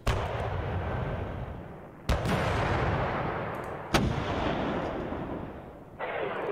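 An artillery battery fires in the wargame Panzer Campaigns Budapest 45, with two sharp, loud booms over a steady rumbling battle backdrop.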